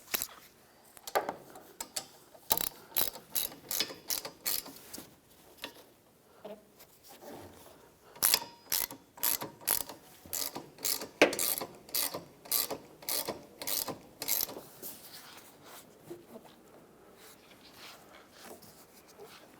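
Ratchet tightening the nut on a wiper transmission of a 2001-2007 Toyota Highlander, heard as rapid bursts of sharp clicking strokes repeated throughout, close and fairly quiet with short pauses between runs.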